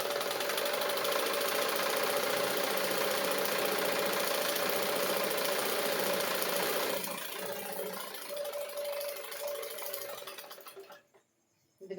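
An electric sewing machine stitching a blouse sleeve runs with a steady loud mechanical whir for several seconds, then slows and quiets, stopping near the end.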